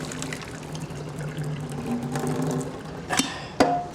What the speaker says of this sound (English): Here I'm going to drain all that water.